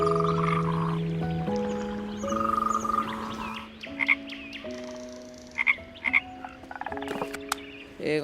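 Frogs croaking in a dense chorus, layered sustained calls shifting pitch with sharper chirping croaks breaking in, close and continuous throughout.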